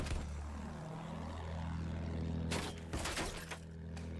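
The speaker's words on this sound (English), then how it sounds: "Flugzeug gesichtet." In the Battlefield 1 video game, an enemy propeller aircraft drones overhead with a steady, loud engine roar. Sharp bursts of gunfire and impacts cut through it.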